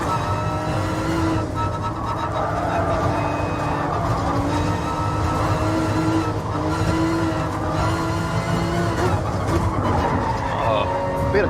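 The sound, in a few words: race cars and contact in GT Sport video game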